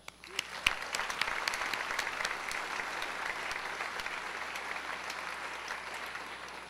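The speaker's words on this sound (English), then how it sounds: "Please hold your applause till I say all three names" Audience applause fills a dinner hall at a founders celebration, a steady wash of many hands clapping at moderate distance that holds evenly from start to finish.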